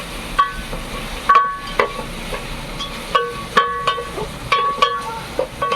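Sliced onions sauté in a pan for a biryani, giving a soft continuous sizzle broken by repeated sharp clanks and scrapes of a spoon stirring against the pan, close up and with no talking.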